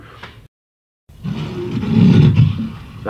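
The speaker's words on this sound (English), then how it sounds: "That's a lion protecting his cubs." A lion guarding its cubs lets out a loud, close roar that swells and rumbles for about two seconds after a brief silence.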